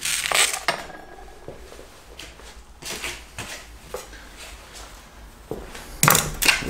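A metal strainer clanks and rattles in scattered bursts, bright metallic clinks and scrapes with quieter gaps between, close by and with no talking.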